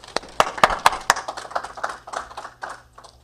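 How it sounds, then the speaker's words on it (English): Scattered, sparse hand claps from a small audience at a welcoming event for Aga Khan University Karachi faculty, following a talk on Pakistan's economy; a few sharp, irregular claps fade into softer, thinning claps. "So a big round of applause."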